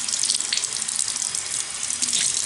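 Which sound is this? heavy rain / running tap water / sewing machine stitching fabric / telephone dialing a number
running tap water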